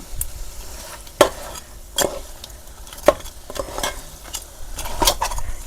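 Crab curry masala sizzles in a large pot while being stirred, with a continuous fry hiss broken by sharp spoon scrapes and clatters about once a second. No one speaks.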